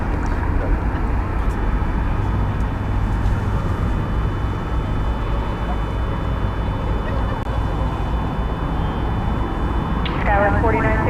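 An American airliner takes off from runway 18 left at DFW Airport, a loud steady roar of jet engines rumbling continuously, with a voice heard over it.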